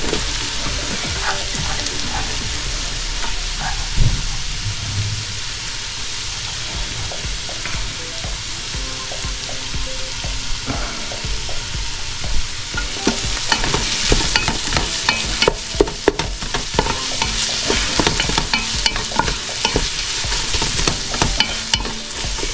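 Onions, garlic and ginger sauté in a hot pan, giving a steady loud sizzle with scraping and stirring strokes that come faster and louder in the second half.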